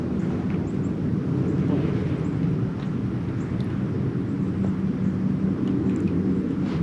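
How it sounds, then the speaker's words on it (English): A truck rolling by near a cold-weather bass fishing spot, a steady, broad low rumble that holds evenly for several seconds with no other sounds standing out. "Sounds like a truck."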